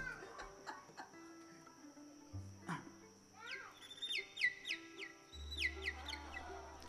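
A voice mimicking birdsong before a crowd, producing a run of quick high chirps and whistles in short bursts, with some clucking sounds mixed in, fairly quiet overall.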